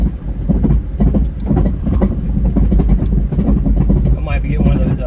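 Trailer towed behind a Pontiac Matrix rattles and clanks continuously over road rumble, a loud dense clattering with steady engine and tire noise throughout.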